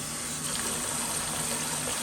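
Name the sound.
water rinsing fan cover from swivel spray head attachment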